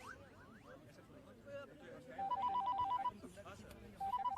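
Telephone ringing in a Hindi-dubbed South Indian film scene, its repeated electronic trill bursts cutting in under ongoing dialogue and background voices.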